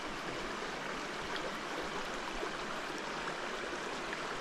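Continuous rushing burble of Yackandandah Creek flowing near a camp in Mount Stanley State Park, heard close and steady with no talk.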